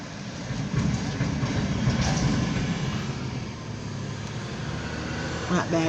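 A Norfolk Southern C29 local mixed freight train passes in Meadville, Pennsylvania, a loud, steady low rumble of wheels and cars close by, with a person talking over it.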